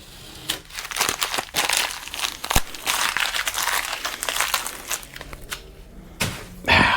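Tape edge being picked and peeled off a blacked-out car emblem, giving close, crinkly crackling and tearing sounds in irregular bursts, with a few sharper snaps.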